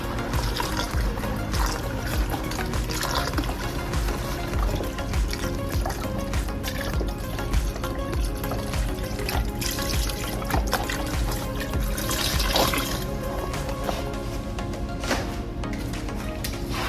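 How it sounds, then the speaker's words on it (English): Chicken stock is poured into a pot of smoked turkey meat for red beans and rice, a steady continuous liquid gush with trickling and splashing that runs unbroken at close range. "this is 2 pounds worth of chicken stock"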